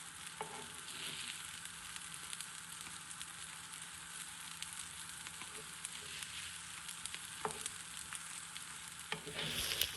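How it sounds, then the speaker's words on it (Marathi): Chickpea kabab tikkis shallow frying on their second side give a continuous, quiet, even oil sizzle with a couple of faint clicks, no voices. "आता दुसऱ्या साईडनं पण आपण छान शालो फ्राय करून घेऊया."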